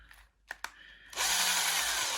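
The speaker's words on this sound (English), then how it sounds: "Let's drill some lead out of it." An electric drill bores lead out of a fishing lure. A couple of sharp clicks come first, then a loud, close, steady whir of the drill biting into the metal.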